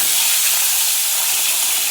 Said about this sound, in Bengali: এবার মাছটা ভেজে ফেলাই